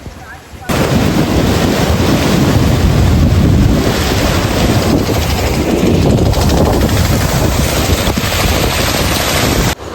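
Floodwater pours over the Chhachhar bridge near the Jamjir waterfall in Gir Somnath during heavy rain, a loud, unbroken rushing roar mixed with wind buffeting that starts abruptly and stays constant throughout.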